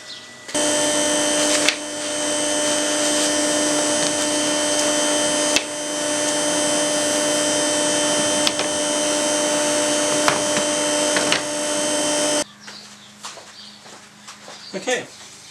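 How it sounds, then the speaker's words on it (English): A vacuum runs loud and steady for about twelve seconds, sucking sawdust out of freshly cut wood parts for a small spray booth fan box, with a few bumps of the nozzle, then cuts off to quieter handling noises. "we just got to suck out the dust and clean it up"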